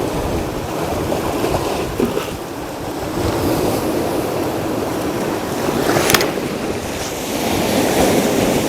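Sea waves break and foam against a rocky coast in a continuous surging wash with buffeting wind noise on the microphone, swelling slightly toward the end, with no voices.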